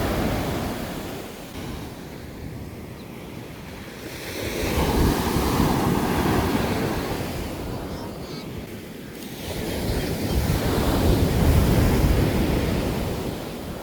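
Sea waves rolling onto the beach at Cabangan, Zambales, two slow surges swelling and receding over steady wind rush buffeting the microphone, fairly loud and close, no voices.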